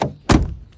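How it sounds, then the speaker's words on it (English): A Fiat 500X car door slams shut with one loud, close thunk after a brief quiet moment, followed by a fading low rumble. "door open, door shut, door open"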